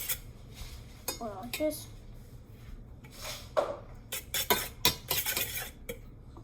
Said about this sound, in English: Guys, I'm mixing.